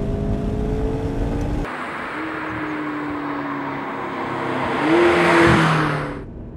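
A McLaren 650S sports car drives on a mountain road in southern Spain, its engine note rising and falling through gear changes and swelling to a loud, high-revving surge near the end before easing off.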